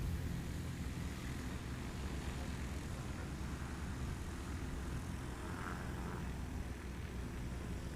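A Cessna 182 engine runs at full throttle at a STOL competition on a hot, humid day. The propeller drone is steady and continuous and sounds fairly distant.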